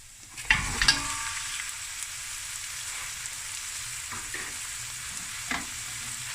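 Lamb knuckle pieces go into a pan of golden fried onions, setting off a steady close sizzle with a couple of sharp stirring clatters near the start and a few softer knocks later.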